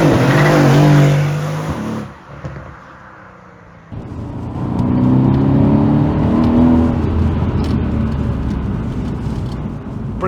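A Mercedes C63 AMG W205 with a Eurocharge tune, loud and close, its engine roaring hard, then briefly dropping off around a gear change or lift before building again into a strong, rising drone.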